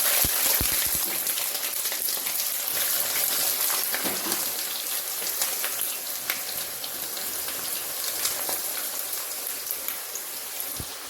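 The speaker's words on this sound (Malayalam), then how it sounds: "ചൂടായ എണ്ണയിലേക്ക് ഇഞ്ചി അരിഞ്ഞിടാം." Thinly sliced ginger dropped into hot oil in a pan, giving a dense, loud, continuous sizzle and crackle that slowly settles, with no talking.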